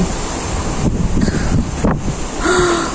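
Strong wind in Israel buffeting the microphone in continuous gusts on a cold, dark-clouded day, with a roaring, blustery wash and a faint whistling tone toward the end.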